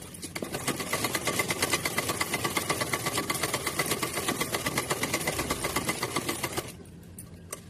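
Sewing machine stitching a chunni from fabric with lace, running steadily with a fast even clatter of needle strokes for several seconds before stopping abruptly, close and fairly quiet.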